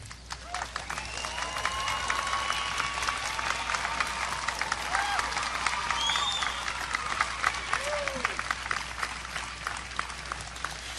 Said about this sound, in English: Audience, please join me in one more round of applause for all of these distinguished individuals and their accomplishments